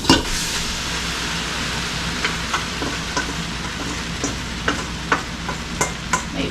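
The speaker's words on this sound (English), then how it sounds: "I like to mix it around so the noodles don't stick." Butter and cooked noodles stirred in a pot, with soft continuous scraping and a string of sharper spoon clicks against the metal, fairly close and steady with no voices.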